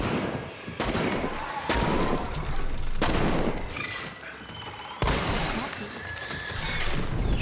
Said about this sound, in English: I'm just gonna shoot it